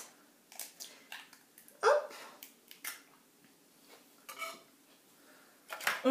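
An egg is cracked for an apple tart filling, a few sharp clicks and taps against a dish, spaced irregularly and close, in an otherwise quiet kitchen.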